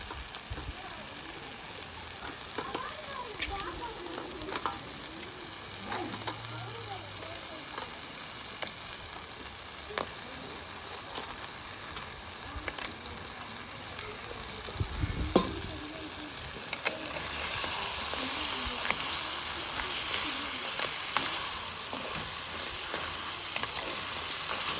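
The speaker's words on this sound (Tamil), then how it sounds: "நண்டையும் போட்டு இந்த மசாலாவோட பிரட்டி எடுப்போம்." Crab frying in a pan with masala, a steady soft sizzle that runs throughout with faint stirring scrapes and a few clinks, close and unvoiced.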